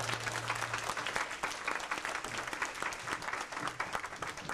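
Concert audience applauding for a gospel vocal group, a dense, steady wash of many hands clapping that fills the room, with a brief low hum at the start and no talk over it.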